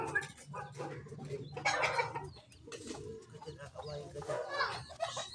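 Chickens at a rural backyard in Batangas, a rooster and a hen, clucking and calling in short irregular bursts close by, with people talking over them throughout.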